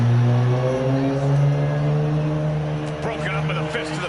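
A loud car passes with a buzzy, lawnmower-like engine drone, a steady rough hum held throughout at close range.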